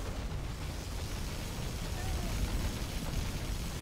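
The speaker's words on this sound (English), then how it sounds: "Particle cannon activated." A particle cannon strike in a real-time strategy game lands as a continuous, heavy rumbling roar, like a long sustained explosion. It stays loud and dense throughout, with no distinct separate blasts.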